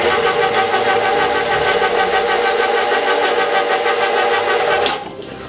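Electric meat grinder running steadily while mincing duck pieces for a stuffing, a loud continuous motor whir with a slight knock, cutting off abruptly near the end.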